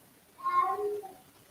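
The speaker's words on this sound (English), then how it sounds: "If you hear that, that's my cat." A pet cat meowing indoors, one short faint drawn-out meow heard at a distance against a quiet room.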